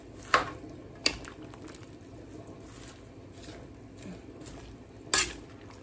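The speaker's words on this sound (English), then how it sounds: "Our carrots. Our broccoli. See that? And let's mix it together." Carrots and broccoli are stirred into a soup pot with cabbage, giving a few sharp utensil knocks against the pot over soft, wet shuffling of the vegetables.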